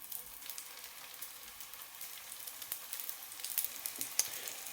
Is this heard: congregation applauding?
no